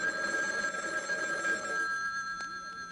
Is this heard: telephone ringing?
yes